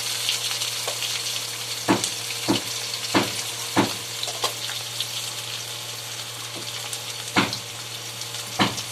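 Onion, ginger and green chili sautéing in a hot pan, a steady close-up frying hiss with a low hum underneath and periodic sharp spatula scrapes and knocks.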